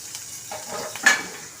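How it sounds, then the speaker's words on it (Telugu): Oil and spice paste sizzling in a pan for homemade chicken curry, a soft steady fry with light stirring scrapes and a brief louder sizzle burst near the end. "దాంట్లో ఆయిల్ వేస్తున్నానండి"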